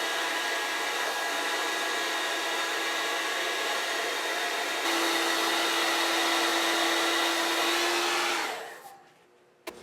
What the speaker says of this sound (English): we're going to start by heating this nut and getting it out